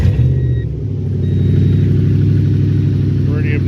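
A first-generation Toyota Tundra with its exhaust completely removed idles loud and raw, a deep throbbing rumble that swells slightly as it revs, heard up close with a brief voice near the end.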